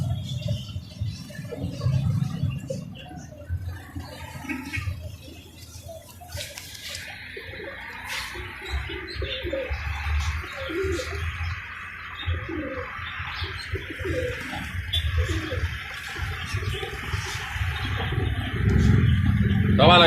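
Alexandria pigeons, including a crested tartour, coo steadily in a loft, with soft overlapping throaty coos and occasional chirps close by under low background noise.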